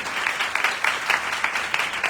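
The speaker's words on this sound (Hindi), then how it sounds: "खुदावन यीशु के लिए जोरदार ताली बजाएंगे," A congregation at a women's empowerment church meeting applauds for Jesus, steady loud clapping from many hands filling the room with rhythmic bursts.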